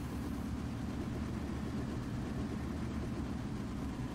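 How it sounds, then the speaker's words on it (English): Blenheim bomber engines warming up in a flight combat game, a steady low, heavy droning rumble that holds constant throughout, loud and continuous with no voices over it. "I'm still trying to get my engines warmed up"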